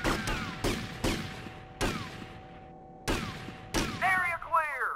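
Gunfire in Grand Theft Auto Vice City, a string of sharp single shots spaced irregularly, some in quick pairs, each with a short echoing tail, followed by whistling ricochet-like chirps at the end.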